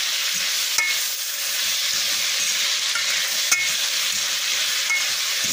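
Ackee and saltfish sizzling steadily in a hot frying pan, with a broad hiss of frying and a few light scrapes as the food is stirred.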